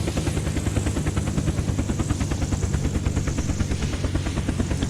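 Helicopter in the video game Unturned, a loud, steady, rapid rotor chop with an even pulsing rhythm, heard up close throughout with no talk.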